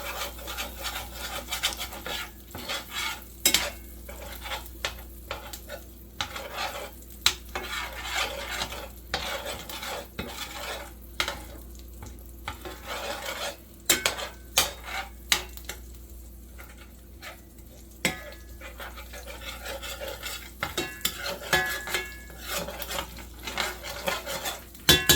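Melted grease for biscuits and gravy sizzling in a pan while being stirred, with a soft continuous fry under irregular scraping strokes and occasional sharp clicks of the utensil against the pan, close and without talk.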